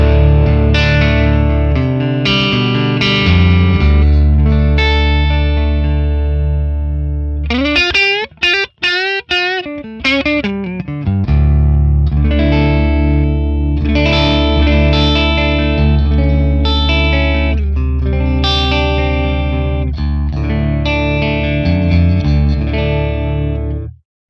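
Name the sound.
electric guitar, neck pickup, Friedman Plex DI tone model, no reverb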